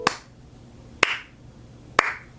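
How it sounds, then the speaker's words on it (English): Cartoon clapping: three slow, sharp claps spaced about a second apart, each one crisp and distinct against a quiet background. "He was clapping."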